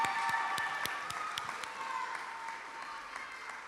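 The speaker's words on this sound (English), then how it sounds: "Everybody can get them a hand clap." Audience clapping at a National Junior Honor Society induction ceremony, a steady burst of applause from a seated crowd that stays dense and then gradually thins near the end.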